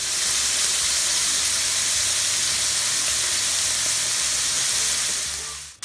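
Beef sears in a hot frying pan with a loud, continuous hiss and sizzle that stays steady, then cuts off abruptly at the end, with no voices.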